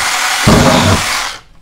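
A Tingmengte mini 8-inch chainsaw buzzes loudly up close, then bites into wood for about half a second with a rougher, deeper cutting rasp before the motor winds down and stops.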